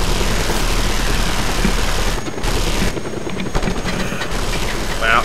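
A helicopter in the video game Just Cause 2 gives off a steady whirring rotor and engine drone, loud and continuous, with brief dips and faint rattling bursts mixed in.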